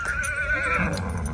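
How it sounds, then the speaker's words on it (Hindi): A horse lets out a single close, loud whinny lasting about a second at a stadium event, its wavering tone sliding downward over a low background rumble. "हमारे घोड़े रेडी खड़े हुए हैं"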